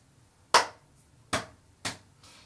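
Finger snaps imitate horse hooves striking a path: three sharp, separate snaps at an unhurried walking pace, close and clear, with no talk.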